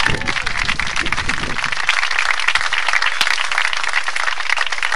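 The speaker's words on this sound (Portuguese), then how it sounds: "Mais uma vez, palmas para todos" An audience at a DJ award ceremony applauds in a steady, dense wash of clapping that stays loud and even throughout, with a voice briefly audible at the start.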